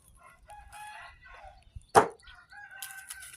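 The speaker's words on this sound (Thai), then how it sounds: "เสียงไก่นะ" A rooster crows once, loud and close, at a charcoal-burning site with large black drums, while someone talks softly before and after.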